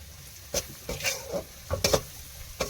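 Fish being stirred with chilli powder in a pan, giving soft scraping stirs and light sizzling in irregular bursts, close and moderately loud with no talk.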